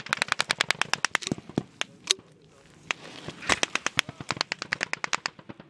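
Machine gun fire in combat in Afghanistan cracks in rapid sharp bursts, with a brief lull and some single shots between volleys and faint voices underneath.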